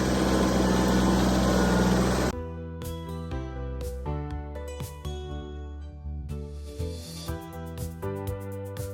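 A tractor engine running, first as a loud steady roar that cuts off, then as a close, unsteady chugging idle with rhythmic knocks and strong tonal hum, alone with no talk.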